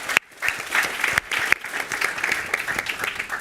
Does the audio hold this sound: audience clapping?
yes